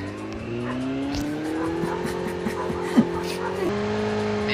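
Vehicle engine from a motorcycle ride in the Call of Duty Mobile game, a steady droning hum with rising pitch and a brief tire-squeal-like burst midway, under continuous game sounds.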